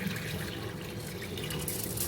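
Water runs and splashes steadily through a fine-mesh sieve as basmati rice is rinsed, a continuous hissing, gurgling flow with no voices.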